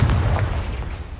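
A Confringo fire spell bursts in Hogwarts Legacy as one short, loud, booming explosion with a deep rumble that fades within about a second.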